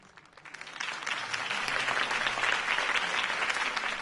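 Crowd applause in the video game Telltale's Batman, a dense wash of clapping that swells over the first second and then holds steady and fairly distant, with no voices over it.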